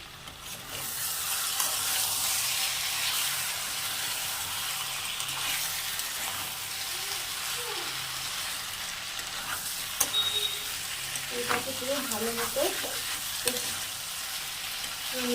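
Jackfruit and goat fat stir-fry in a pan on a gas stove, a steady broad sizzle with scraping stirs that grow sharper and more frequent near the end; no one speaks.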